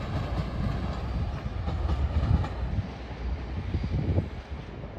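A passing train on the East Coast Main Line at York rumbles past nearby, with a low rolling roar, faint rhythmic clatter and some wind buffeting, fading slightly toward the end.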